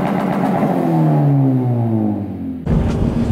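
A Subaru BRZ running an E85 tune cruises along, its engine note droning and slowly sliding down in pitch as it eases off, then a sudden shift to a rougher, busier road and engine noise near the end, with no talking.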